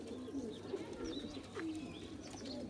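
Kasuri pigeons cooing close by, soft repeated low coos and murmurs from several birds layered over a quiet background.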